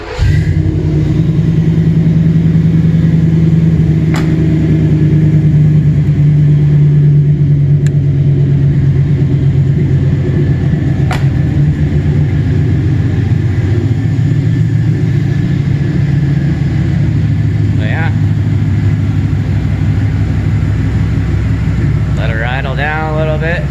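A 1992 Chevy 1500 truck with an LT1 V8 idles loudly and rumbles steadily in neutral, close up and loud for over twenty seconds with a few slight rises in revs.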